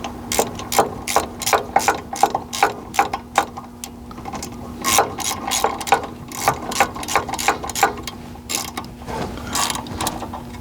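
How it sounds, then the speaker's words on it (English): Ratchet wrench tightening the brake caliper bolts on a Chevy C10 front brake, heard as rapid bursts of close, sharp clicking repeated in quick runs with brief pauses between them. "Grab your ratchet."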